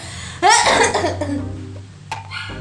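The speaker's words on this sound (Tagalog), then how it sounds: "nauubo-ubo na ako kasi tapang nung amoy" A burst of harsh coughing close up in a bathroom being cleaned with strong-smelling products, one strong fit followed by a couple of smaller coughs and a short throat sound near the end.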